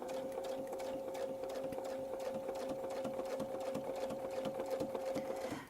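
A sewing machine stitches a miniature feathered Baptist fan quilting pattern, running in a steady, rapid, even whir with a constant mechanical hum, close and continuous until it stops abruptly at the end.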